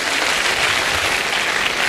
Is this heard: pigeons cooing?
no